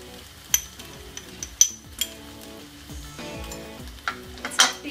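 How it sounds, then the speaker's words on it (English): Mutton frying with sliced onion, chilies, ginger, garlic and herbs gives a steady low sizzle, broken by intermittent spoon scrapes and clinks against the pan. "5 minutes of frying the mutton with the sliced onion, chilies, ginger, garlic and the herbs"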